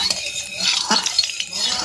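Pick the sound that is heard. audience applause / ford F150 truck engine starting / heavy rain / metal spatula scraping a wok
metal spatula scraping a wok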